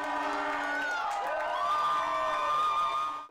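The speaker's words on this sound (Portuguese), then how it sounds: "A comemoração da torcida Canarinho se repetiu aos 22 minutos do segundo tempo" Brazil fans in a bar erupt in loud crowd cheering and shouting over a goal, a dense roar of many voices with rising whoops, sustained throughout and fading at the very end.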